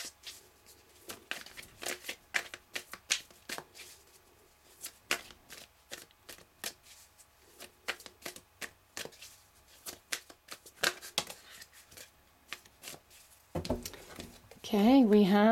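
Tarot cards being shuffled and drawn during a reading, with repeated crisp riffling and flicking patters close by, followed by a louder rustle near the end, under quiet talk.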